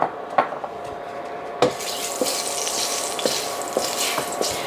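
A tablespoon of oil swirled around a heated pot, sharp metallic clinks and knocks at the start, then a steady soft sizzling hiss with occasional light taps, close and without talking.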